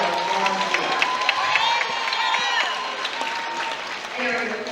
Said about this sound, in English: Please give a round of applause for Lady Car number 22, Daniela Valencia.